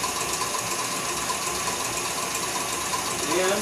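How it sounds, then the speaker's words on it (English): An electric mixer whirs steadily while blending a chocolate ice cream base, a constant close motor drone with a slight rise in intensity near the end. "I'm just mixing it all up now."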